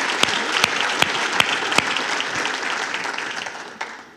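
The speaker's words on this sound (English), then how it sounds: "Let's give Avelo Airlines a big Brownsville welcome and round of applause." Crowd applause at a State of the City event in Brownsville, welcoming Avelo Airlines, a loud dense burst of clapping with a few sharp near claps at the start that tapers slowly toward the end.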